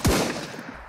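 A single sharp gunshot from the video game Mutant Ops cracks at the start, followed by a short decaying tail with no voices.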